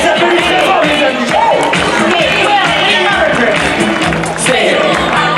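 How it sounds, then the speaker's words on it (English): A crowd at a Walt Disney Studios Paris park show claps and cheers loudly and continuously, with shouting voices and babble mixed through the din. "On les applaudit très fort, les amis!"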